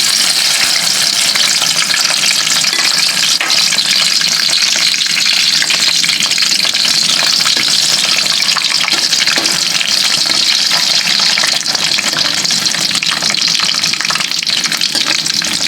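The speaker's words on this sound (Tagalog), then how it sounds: "Okay, so i-fry na natin tong saba guys, o saging." Saba bananas fry in hot oil, a loud, dense, unbroken sizzle and crackle that holds steady throughout.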